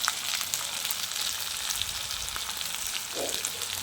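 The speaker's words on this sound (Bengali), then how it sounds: "আমি মশলাটা টমেটোটা একসঙ্গে দিয়ে দিয়েছি।" Tomato and spice masala frying in a pan, a steady close sizzle with crackling spits and occasional soft stirring scrapes, continuous and fairly quiet with no talking.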